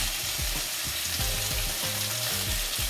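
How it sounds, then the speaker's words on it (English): Seasoning and boned saltfish for Jamaican ackee and saltfish fry in a pan with a steady, dense, close sizzle and faint crackles, unbroken throughout. "we're gonna fry the seasoning"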